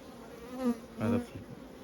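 Honey bees buzz around a Griswald hive, the drone rising in two short close swells over a low steady hum, with no talk.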